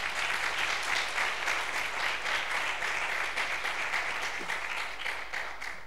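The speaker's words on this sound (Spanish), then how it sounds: "Dale un aplauso, por favor." Audience applause at a science fair closing ceremony in Almonte, a dense, sustained clapping from a crowd that holds steady and tapers slightly at the end.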